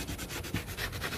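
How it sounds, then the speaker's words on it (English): Rough sandpaper rubbing along a rough edge of a wall pot holder hanger, a close, steady scratchy stroking in repeated back-and-forth passes with nothing else heard. "You're just gonna use a really, really rough sanding paper."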